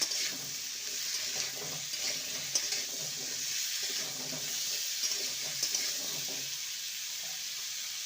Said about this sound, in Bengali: পেঁপে আলুর গায়ে সোনালি রং ধরা পর্যন্ত ভেজে নিতে হবে